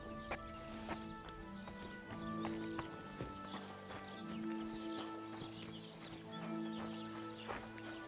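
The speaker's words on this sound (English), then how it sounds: "Someone's been pampering this horse." Horse hooves clip-clop in a steady rhythm over a busy Kingdom Come: Deliverance 2 game soundscape with sustained musical tones, close and moderately loud.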